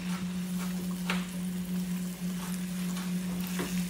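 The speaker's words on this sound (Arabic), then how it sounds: "ونحمس الثوم والفلفل لين تطلع ريحته" Garlic and chili pepper sautéing in ghee give a steady, close sizzle with a low constant hum beneath and a few soft stirring scrapes, no voices.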